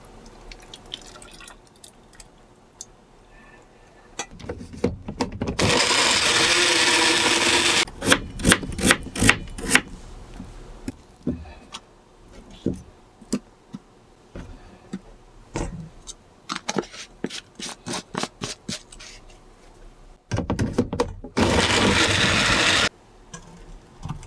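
Blender grinding raw potatoes for flour-free Korean potato pancakes, several loud bursts of whirring and grinding a few seconds each, with short pulses and quiet pauses between runs.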